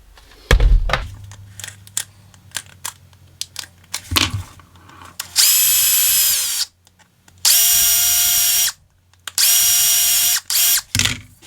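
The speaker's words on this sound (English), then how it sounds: "Now drill these out." A power drill bores holes through a Kydex holster for a Canik TP9 SFX in three loud, sustained whining bursts, preceded by scattered clicks, thunks and handling knocks on the workbench.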